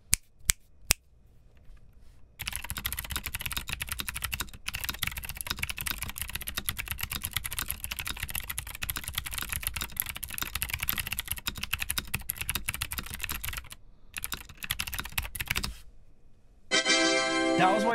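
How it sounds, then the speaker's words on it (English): Rapid, steady clacking of an unmodified stock mechanical keyboard being typed on quickly, close up, with brief pauses near the end. "I'll just let you hear what this keyboard sounds like stock"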